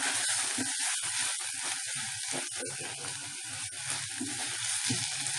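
Semolina (rava) sizzles in hot oil in a pan, a steady close crackling hiss that continues throughout with no talking.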